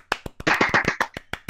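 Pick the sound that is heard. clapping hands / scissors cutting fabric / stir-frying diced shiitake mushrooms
clapping hands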